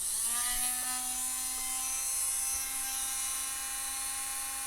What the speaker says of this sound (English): just to drill a hole, a millimetre hole in the column